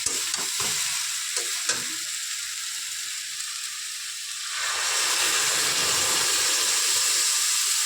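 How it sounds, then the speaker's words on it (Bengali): Malabar spinach (pui shak) stirred in a hot pan, steady frying sizzle and hiss with soft scraping stir strokes early on, the sizzle swelling louder and fuller midway, close and continuous with no talk. "তো এদিকে আমার পুঁই শাক বসানো হয়ে গেছে, দেখতেই পাচ্ছ।"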